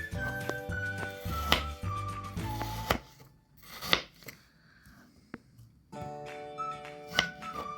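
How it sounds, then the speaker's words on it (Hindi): A knife cuts chicken meat into cubes on a board, giving a run of sharp, close chopping knocks with a few pauses, over light background music. "अब इनको मैं क्यूब की शक्ल में काट लूँगी इस तरह से"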